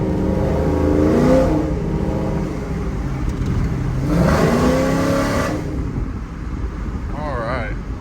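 A cammed GMC Sierra truck with an equal-length exhaust accelerates on a freeway in Mexico with its exhaust valves open, giving a steady loud engine drone that swells twice with rising pitch, under wind noise and occasional talk.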